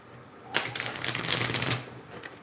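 A deck of tarot cards is shuffled in one quick riffle, a rapid burst of crisp clicking and fluttering lasting just over a second against a quiet room.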